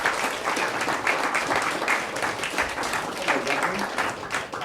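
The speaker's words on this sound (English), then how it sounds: "Everybody clap for Reverend Paul Coleman." A theater audience at a live comedy show in Charlottesville, Virginia applauds Reverend Paul Coleman with steady, dense clapping that holds for the full stretch and ends abruptly.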